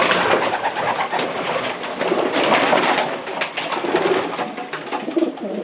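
Hundera pigeons in Kuçovë coo close by, soft throaty calls repeating and overlapping over a few seconds, with no voices present.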